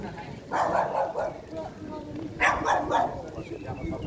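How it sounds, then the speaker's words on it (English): A dog barks outside in two short bursts of yapping, moderately distant, with a gap between, amid low background noise and some voice. "The dog barking reminds me of the dog I've got to go back to in the apartments."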